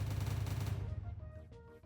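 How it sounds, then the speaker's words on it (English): The hairpin explosion ability from a Jujutsu Kaisen Minecraft mod goes off as a loud burst of rapid crackling blasts, then fades into a quieter tail of scattered pops. "Then we got hairpin explosion"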